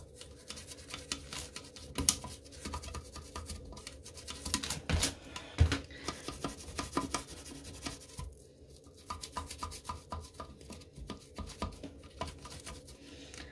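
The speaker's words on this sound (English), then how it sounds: "Wonder if I can get in there with an old toothbrush." An old toothbrush scrubs a toilet treated with Lysol Lime & Rust toilet cleaner, making quiet, close, irregular scratchy strokes and wet rubbing that continue steadily without talk.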